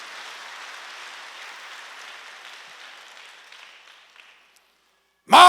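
A church congregation at a Wednesday worship service claps together, a soft, even round that gradually fades out over about four seconds, followed by a brief silence and then a loud thump at the end.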